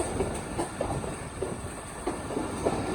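A Pakistan Railway train rolls toward Malikwal Junction, heard from on board as a steady rumble with rhythmic clickety-clack wheel beats and a faint hiss, no voices.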